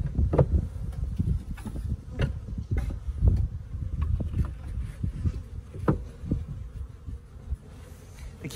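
A dense, low buzzing of many honeybees inside a hive fills the air, close and continuous, with soft irregular thumps and bumps scattered through it.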